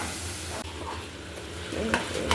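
Paneer gravy cooks in a pan, a continuous soft sizzle and bubbling at close range with a couple of light clinks near the end.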